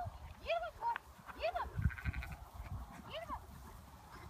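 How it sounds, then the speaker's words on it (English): Flock of sheep being herded wide by a dog, several wavering bleats close by at irregular intervals, mixed with low rustling and shuffling. "Now you notice that Max is going to try to get around these sheep kind of wide"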